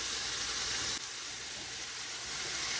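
Onions sautéing in a pan, a continuous even hiss of frying that stays loud and unbroken throughout, with no voices.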